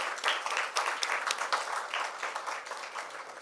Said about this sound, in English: Let us all give them a warm round of applause